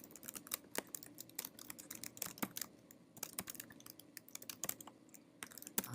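Steady, close typing on a computer keyboard, with rapid irregular key taps running throughout and no talking.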